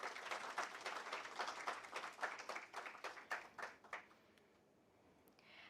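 Quiet, distant applause from a conference audience at an HR conclave, a dense patter of claps that thins into a few separate claps and fades to near silence.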